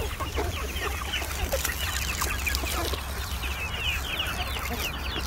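Chickens cluck steadily and close by on a farm during a vacation, some calls overlapping, with a low outdoor rumble underneath and no talking.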